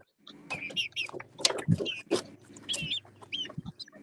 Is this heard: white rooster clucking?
yes